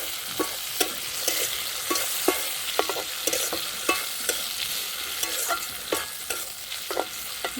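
Spices frying in mustard oil give a steady close sizzle, punctuated by regular sharp scrapes and clicks of a spatula stirring in the pan, with no voices.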